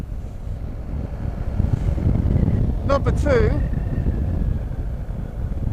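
A BMW R1250GS motorcycle riding along roads, its engine a steady low drone buried under heavy wind buffeting on the microphone, with someone talking over it.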